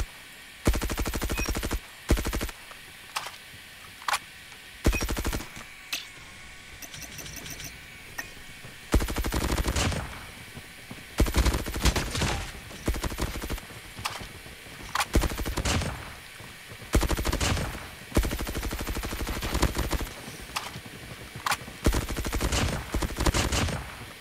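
Repeated bursts of rapid automatic fire from a Groza assault rifle in a shooter video game, loud crackling volleys separated by short pauses and occasional single shots.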